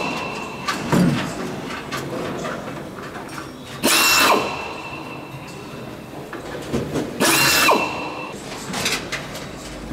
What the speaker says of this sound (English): Looks good now we've got a few rivets in.